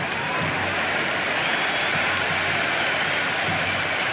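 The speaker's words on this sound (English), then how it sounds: "It's evident and ever so audible that the crowd is at near bursting point at today's play." A packed crowd roars and applauds at a T20 cricket match between India and Ireland after a six, a loud, sustained wall of cheering and clapping that holds steady throughout.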